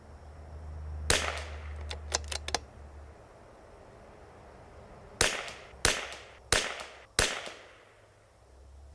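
Vudoo 360 rimfire rifle firing Eley Tenex ammunition at a target range: sharp, distinct single shots, a few spaced near-together early then four more evenly paced cracks, each with brief decay, no talk.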